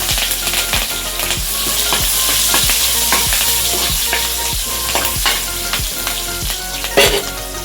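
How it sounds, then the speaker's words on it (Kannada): Curry leaves and green chillies frying in a pan for a drumstick-leaf egg stir-fry: steady loud sizzling throughout, punctuated by regular scraping taps of a spatula against the pan roughly every half second. "ಸ್ವಲ್ಪ ಬೇಯ್ತಿದ್ದಂಗೆ ಮೆಣಸಿನ್ಕಾಯಿ ಹಾಕ್ಬಿಡಿ."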